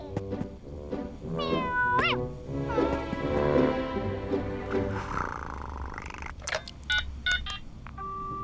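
A cat meows and purrs up close, then a string of short, clipped telephone keypad tones sounds as a number is dialed.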